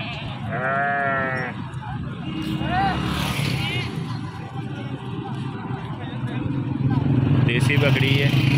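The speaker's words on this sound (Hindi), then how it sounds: "देसी बकरी है।" Desi goats bleating at a busy livestock market, several harmonic bleats early on amid heavy crowd chatter and background motor noise, the animals fairly close but partly masked by talk.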